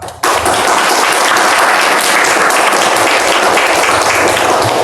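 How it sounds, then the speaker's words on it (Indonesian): A large crowd breaks into loud applause that starts abruptly and continues evenly as a dense wash of clapping. "Tepuk bagi semua"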